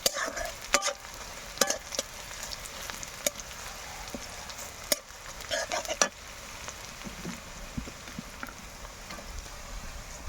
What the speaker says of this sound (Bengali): পেঁয়াজ গুলো ভাজতেছি না হলে পুড়ে যাবে